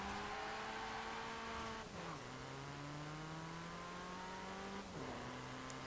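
A Maserati MC12 Corsa race car drives in a racing video game, its engine note climbing steadily through each gear, with two quick drops at the shifts, loud and continuous.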